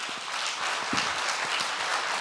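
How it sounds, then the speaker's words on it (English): Steady conference-hall applause from a large audience at a blockchain conference, dense and continuous clapping filling the whole moment with no voices over it. "Another round of applause."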